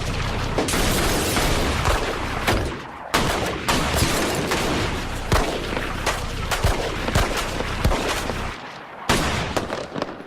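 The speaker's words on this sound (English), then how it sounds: "Code 33. Shots fired." Rapid bursts of gunfire and booming shots, loud and close, cracking in irregular volleys with brief gaps during a chaotic school shooting.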